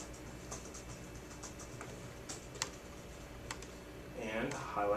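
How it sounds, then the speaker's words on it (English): Taps land on a smartboard's on-screen keyboard in a classroom, soft scattered clicks at an irregular pace over a low hum, followed by a voice near the end. "All I have to do is just click anywhere that I want and literally start typing."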